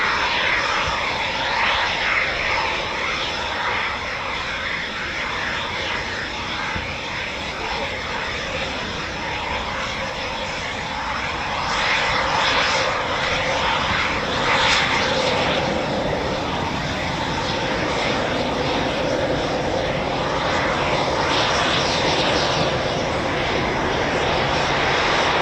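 Eurofighter Typhoon FGR4 jet engines roar at RAF Coningsby, a loud, sustained broadband rumble and hiss that swells slightly in the middle and persists throughout with no pauses.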